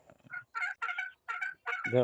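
Large chickens call nearby in a run of five short, rough, squawking bursts, fairly loud and heard alone without talk.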